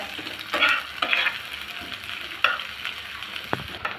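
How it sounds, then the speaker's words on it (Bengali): Long-sliced onions and a couple of green chillies fry quietly in a pan, a soft sizzle punctuated by a few stirring scrapes and spatula taps. "এখন দিয়ে দিব একটু ভেজে নেব পেঁয়াজটা"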